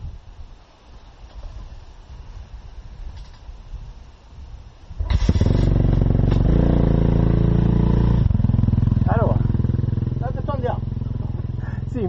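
Enduro motorcycle engine catching after a quieter start, then running loud and steady with revs rising and falling, with people talking over it.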